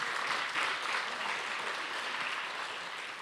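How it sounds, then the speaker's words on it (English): Dense, continuous audience applause for the MCs at an Indian classical dance arangetram, a full hall of clapping hands blending into a steady roar at even loudness throughout. "Please give one more round of applause for Sanvi and Ara for doing an amazing job, our MCs"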